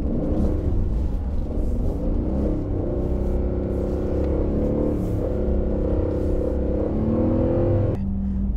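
A new Aston Martin Vantage runs on an icy, snow-covered road, its engine a steady low rumble with rising and falling revs throughout, close and continuous, with no talk.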